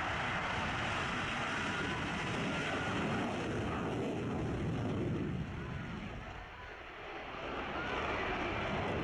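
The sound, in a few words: fighter jet taking off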